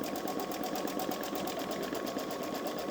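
A Baby Lock Solaris 3 embroidery machine stitching a design at a fast, even pulse, close and continuous with no pauses or voices.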